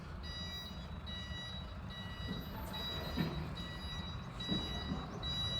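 A reversing trailer truck sends out evenly spaced, high-pitched electronic beeps at moderate volume over a low engine rumble, with faint thuds in the background and no voices.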